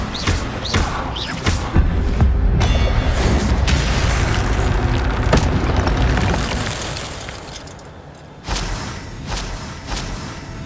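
A fire spell cast in the video game Hogwarts Legacy, heard as loud booming bursts and whooshing blasts over a dense rumbling game soundscape, with a quieter stretch and a few fresh thumps toward the end.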